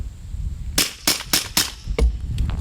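A pistol fires 158-grain subsonic rounds: four sharp, evenly spaced shots, then a short pause and a fifth shot, each crisp and close with no talking.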